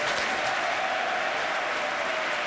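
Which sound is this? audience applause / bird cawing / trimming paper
audience applause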